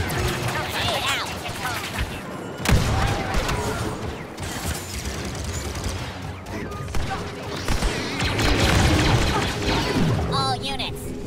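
Grenade blast and gunfire from the Star Wars Battlefront 2 Galactic Assault battle, a dense continuous din of shots and mechanical clatter with a sharp burst near the middle, voices talking under the action throughout.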